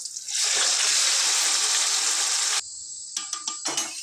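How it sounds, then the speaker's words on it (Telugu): Marinated chicken for biryani drops into a hot pan and sets off a loud, sustained hiss of sizzling that cuts off abruptly, followed by a few brief sputters and stirring sounds. "ఇంతకుముందు నానబెట్టుకున్న చికెన్ ఇందులో వేసుకుందాం"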